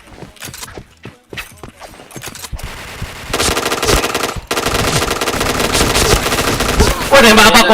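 Rapid automatic gunfire bursts from a shooting video game, rattling loudly in dense sequences over a few scattered shots, with excited players talking over the action.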